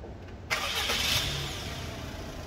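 A Suzuki Alto Lapin LC (HE33S) engine starting indoors: a sudden starter crank burst that catches into a steady idle hum, close and fairly loud, with no talk.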